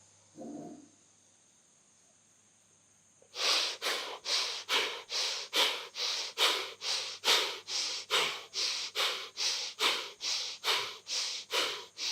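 Bhastrika pranayama yoga breathing: after a brief breath and a pause, a loud close run of about sixteen forceful, evenly spaced breaths pumps in a fast steady rhythm.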